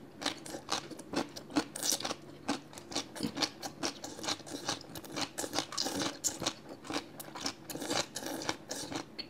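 Close, crisp crunching of instant noodles with squid, eggs and crunchy vegetable stems being chewed, rapid and irregular bites repeating steadily with no talking.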